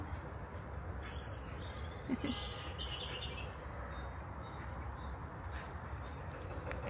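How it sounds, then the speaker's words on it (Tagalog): Birds chirping outdoors in Edinburgh in early spring, faint scattered tweets and calls set against a steady low outdoor rumble. "Ang daming ibon."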